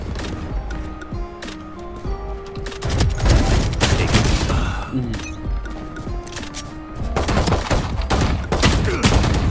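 Gunfire in the video game Valorant comes in dense, loud bursts and rapid volleys with booming impacts, while a player talks excitedly over the shooting.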